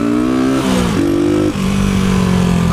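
Motorcycle with no brakes pulling away in second gear, its engine loud and close, revving up with a brief dip at each shift before settling into a steady, strained drone.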